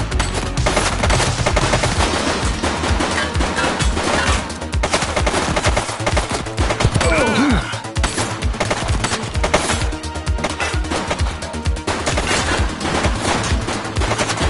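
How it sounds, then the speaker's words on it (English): Dense, continuous gunfire in a police shooter video game, rapid automatic bursts and single shots layered with loud battle noise, steady and close throughout with no pauses. "She's shooting!"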